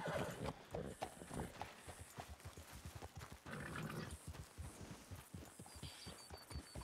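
Horse hooves clip-clop in a steady trotting rhythm as a rider sets off on horseback in a Western ranch roleplay video game, the beats loud and close with a brief whinny-like tone near the end.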